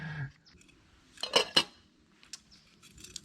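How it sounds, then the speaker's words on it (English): Oatmeal being stirred in a bag at a backpacking camp in the Sipsey Wilderness, Alabama, with a few quick metallic clinks and scrapes of a utensil and then quieter scattered rustles. "Stir that oatmeal up and let it sit for a bit."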